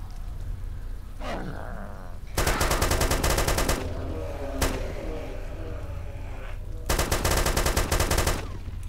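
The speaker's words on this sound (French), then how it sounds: "T'arrêtes de tirer, y'a une dernière balle qui est partie sur le mec." Automatic gunfire from the video game DayZ Origins comes in loud, rapid bursts with a single sharp shot between them, over steady background noise and without speech.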